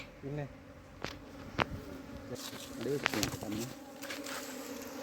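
Honeybees buzz while being scooped off the ground into a hive, a swarm of close, wavering drones rising and fading in short bursts over a quiet, faint background.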